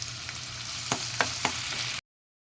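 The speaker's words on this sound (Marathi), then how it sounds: "मी एका पॅनमध्ये एक चमचा तेल घातले एक अर्धी वाटी कांदा घालते भाजायला" Onion, tomato and ginger-garlic paste fry in a spoonful of oil in a pan, giving a steady sizzle with a few sharp stirring clicks near the middle before it cuts off abruptly.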